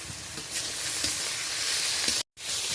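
Onion, green chili and tomato fry in a pan with salt, a steady close sizzle broken by soft scraping stir strokes, with a brief dropout near the end.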